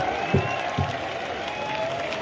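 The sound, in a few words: thunderous audience applause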